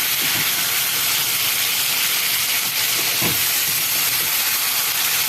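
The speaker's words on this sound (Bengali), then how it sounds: "এবার সব একসাথে ভালো করে কষাবো আমি।" Whole garlic cloves and chicken sautéing in a pan, a steady loud sizzle and hiss running throughout with faint stirring scrapes, no voices.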